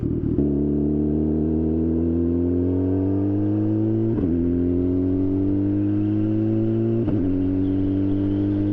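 A turbocharged Suzuki Hayabusa motorcycle engine revs loud and close, its pitch climbing steadily in two long pulls separated by brief dips, the drone continuous and alone.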